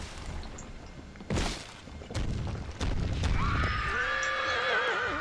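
A horse in the LEGO Lord of the Rings video game gives a loud, wavering neigh near the end, preceded by a thump and game sound effects.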